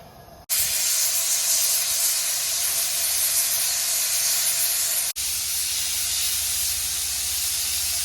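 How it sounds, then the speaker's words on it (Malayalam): A pressure cooker cooking chicken vents a loud, continuous close-up jet of hissing steam, cutting out briefly partway through before resuming just as strongly. "അപ്പൊ നമ്മുടെ കുക്കറിൽ 10 വിസിലാട്ടോ."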